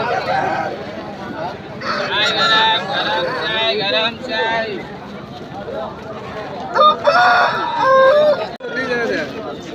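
A rooster crows loudly several times amid other fowl squawks and honks at Piler market, with a busy crowd of voices talking throughout.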